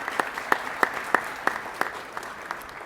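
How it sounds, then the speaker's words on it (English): Small crowd claps at the opening of a modular housing facility, a thin spatter of applause with a few distinct, evenly spaced close claps standing out. "that's worth a clap"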